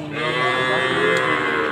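Cattle at the Kragan cattle market in Rembang, Central Java, Indonesia give a long, loud, close moo that fills the whole moment against a busy market background.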